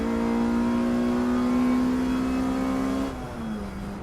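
A Ford Fiesta race car at Snetterton circuit accelerates with a loud, rising engine note, then shifts down to a lower pitch as it pulls away.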